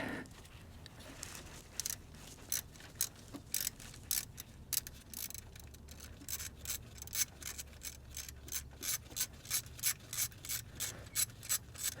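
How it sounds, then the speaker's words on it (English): A ratchet with a 10 mm socket loosens nuts on a bracket of a GM OBS truck's Vortec V8 engine, clicking in quick repeated bursts that grow steady and rhythmic, close and alone. "Just going to go after those with a 10 millimeter and a ratchet."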